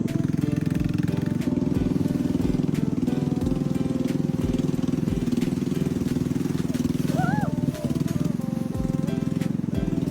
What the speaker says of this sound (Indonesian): Baru saja perahu mulai melaju,